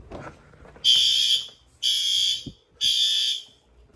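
Building fire alarm system sounding during a scheduled August test, three loud, sustained high-pitched alarm tones about a second each with short pauses between, nearby and alone.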